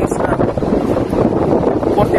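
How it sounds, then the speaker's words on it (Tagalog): Strong outdoor wind buffets the microphone in loud, uneven gusts with rumbling low-end thumps, and a person speaks partly masked beneath the roar. "Ang lakas ng hangin guys, di ko alam kung maririnig nyo ako."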